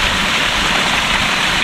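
Natural mountain water rushing in a stream or small waterfall, a loud, steady broadband hiss and splash heard close up, uninterrupted and without voices.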